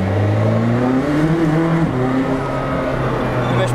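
A McLaren Senna sports car accelerates from inside the cabin, a loud engine note rising in pitch, dipping briefly at a shift, then climbing again under a steady road roar.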